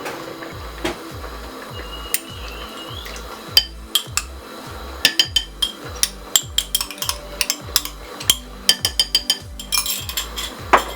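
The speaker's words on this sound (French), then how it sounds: "Voilà, je mélange le tout." A spoon stirring harira soup with tomato concentrate in a pot, giving repeated rhythmic scraping strokes and sharp metallic clinks against the sides, close and clear with no talk.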